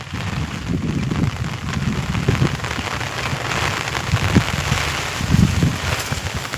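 Steady rain patters across a castor field in blustery wind, an even, close wash of drops with occasional sharper taps and low rumbling gusts underneath.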